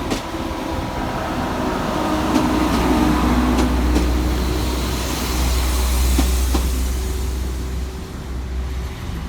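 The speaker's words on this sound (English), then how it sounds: "Arriving to terminate with a Transport for Wales service off of Carmarthen is" A Transport for Wales passenger train from Carmarthen rumbles steadily as it pulls into Cardiff Central station to terminate, with a low engine drone and a few squeaks and clanks from the rails.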